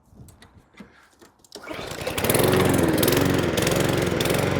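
A Qualcast XSZ46E-SD petrol lawn mower engine starts after a few quiet moments and settles into a loud, steady running drone close by, with no talking.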